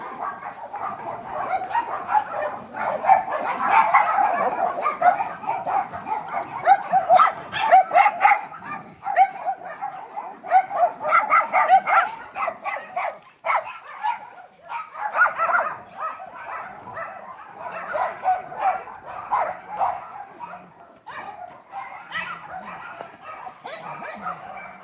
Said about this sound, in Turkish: Aslan gibi ya köpek.